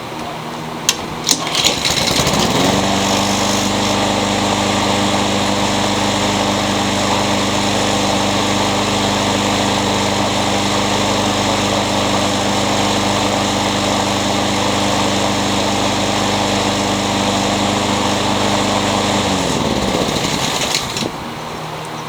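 A Craftsman lawn mower with a Honda engine, freshly fitted with a new carburetor, new oil and a sharpened, balanced blade, starts up and runs at a steady, loud, even drone for about twenty seconds before shutting off.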